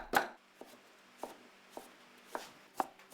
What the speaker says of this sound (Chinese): 花肉剁成肉末